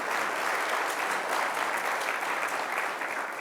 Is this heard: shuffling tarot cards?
no